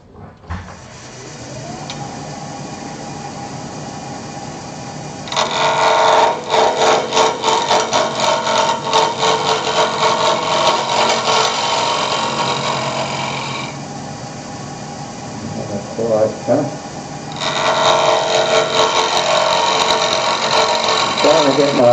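A wood lathe spins a square oriental-style lidded bowl blank while a tool cuts it, giving a steady machine hum that turns into loud, rattling, chattering bursts of cutting in two long stretches, with someone talking over it.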